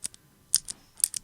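Blue-switch mechanical keyboard keys pressed, a handful of sharp bright clicks close up in a quick irregular burst lasting about a second.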